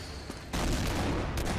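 Gunfire in a Skibidi-themed video game, a sudden dense burst of rapid shots that starts partway through and continues loud and sustained to the end.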